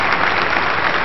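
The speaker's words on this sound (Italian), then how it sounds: "è partito l'applauso per i nostri amici" Studio audience applause on an Italian TV show, a steady dense wash of clapping filling the whole short moment, loud and close with no voices over it.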